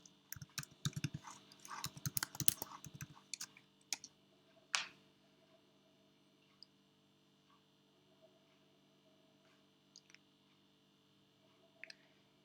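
A burst of rapid computer-keyboard typing for a few seconds, then a single sharp keystroke like an Enter press, followed by near silence with a few faint isolated clicks over a low hum.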